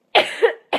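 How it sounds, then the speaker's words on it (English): A person with a lingering cough gives a close, loud, harsh cough, followed by a second short cough burst after a brief pause. "Sorry, I've still got this blooming cough."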